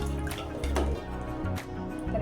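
Water is poured into misal curry in close up, a short run of splashing and dripping liquid sounds.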